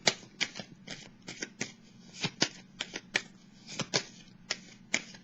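Tarot cards being shuffled and drawn, a steady run of crisp, papery riffs and flicks repeating about twice a second, close and clear with no talking.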